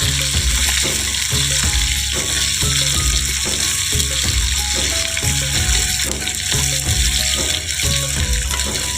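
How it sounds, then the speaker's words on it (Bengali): Sliced onion frying in a pan of hot oil, a steady close sizzle running the whole time with soft clinks and stirring knocks at a roughly regular beat, no voices. "দেখো পেঁয়াজটা দিয়ে দিচ্ছি এবারে পেঁয়াজটা একটু লাল হবে"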